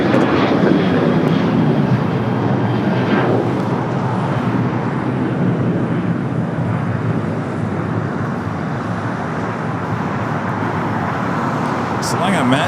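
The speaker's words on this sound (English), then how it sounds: "the American Retro 737-800 took off there on the north side" An American Airlines Boeing 737-800 in retro livery takes off from the north side of LAX, a steady broad jet roar that holds loud for the whole stretch, with faint traffic-like rumble underneath.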